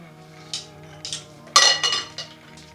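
Dishes and utensils clink and clatter as they are washed in a home kitchen, several separate sharp knocks with one louder crash of metal and glass near the middle, close by over a low steady background hum.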